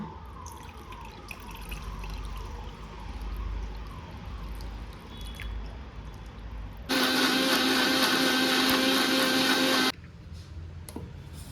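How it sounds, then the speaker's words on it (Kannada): A mixer grinder blends peeled tomatoes into puree in one loud, steady whirring burst of about three seconds, following quieter kitchen handling and water sounds. "ಎಲ್ಲ ಟೊಮೆಟೊ ಹಣ್ಣುಗಳ ಸಿಪ್ಪೆಯನ್ನು ತೆಗೆದು ಮಿಕ್ಸಿ ಜಾರಿಗೆ ಹಾಕಿದ್ದೇನೆ ಇನ್ನು ಇದನ್ನು ನುಣ್ಣಗೆ ರುಬ್ಬಿಕೊಳ್ಳುವ"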